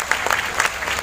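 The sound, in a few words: audience applause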